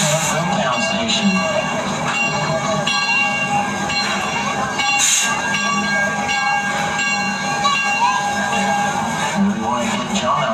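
The Six Flags Texas Railroad amusement park train rolls steadily, with continuous rumbling wheels and squealing, clattering rail noise close by; a voice speaks over the running train.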